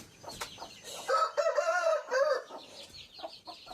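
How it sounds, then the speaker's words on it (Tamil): Chickens and guinea fowl in a coop with chicks make a burst of loud, harmonic crowing calls in the middle, surrounded by scattered clucks and rustling nearby. "கிண்ணிக்கோழி தான் அங்கே போய் உக்காந்துக்குச்சு"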